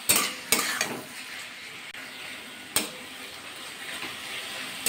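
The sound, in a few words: onions frying and being stirred in a pan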